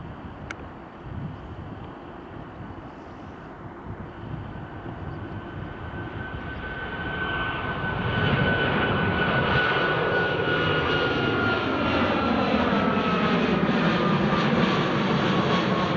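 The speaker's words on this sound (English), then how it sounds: "There's the Qatar Airways." A Qatar Airways airliner passes at Edinburgh Airport, its jet engines starting as a distant rumble and swelling into a loud, sustained roar that holds steady to the end.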